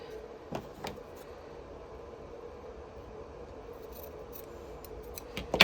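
Scissors snip through fabric fringe in a few quiet, sharp cuts spaced across a faint room background, with a final clustered burst of snipping near the end.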